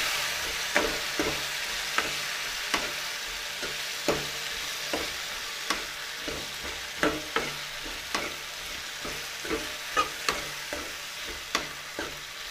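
Masala and ghee for lauki sabzi stirred in a pan, a spoon scraping in regular, distinct clicks and taps over a soft continuous sizzle, close by with no voices.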